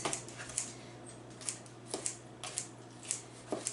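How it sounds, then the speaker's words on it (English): Kitchen shears snip through bagged coleslaw mix of shredded cabbage and carrots, a series of short, crisp cuts spaced about half a second apart, close and fairly quiet with no talking. "That's why I love these kitchen shears. I just stick them in here and just cut up those pieces."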